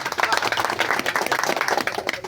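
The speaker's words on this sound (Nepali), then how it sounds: "हामी सबलाई आफूलाई ताली बजाइदिनु भनेर म भन्न चाहन्छु आफ्नो लागि" Meeting attendees at a general gathering clap for themselves, a dense, steady patter of many hands that stays loud and close for the whole span, with no voices over it.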